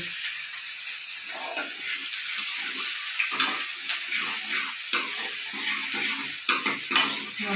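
Onions fry in a pan for radish paratha filling, a bright, steady sizzle broken by scraping stirs and frequent crackles, close and fairly loud with no talk.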